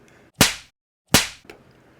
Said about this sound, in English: each rose stem made a satisfying snap